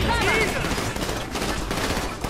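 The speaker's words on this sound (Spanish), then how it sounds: "Oigo tiros por ahí." Gunfire rings out during a bank robbery shootout in GTA V's police mod LSPD:FR, a dense, sustained crackle of shots and game noise with no clear gaps.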